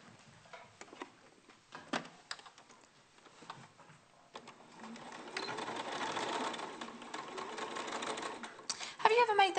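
A sewing machine stitches the front of a cotton fabric bear's leg, starting with short stuttering bursts and settling into a steady whirring run, while a person talks over it.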